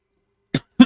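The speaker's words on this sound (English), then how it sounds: "Sorry about the cough." Two short, close coughs from a livestreaming gamer who has been sick, a quick single hack followed by a slightly heavier one, alone in otherwise silent surroundings.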